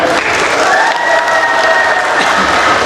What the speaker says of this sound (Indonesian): 100 kita kasih tepuk tangan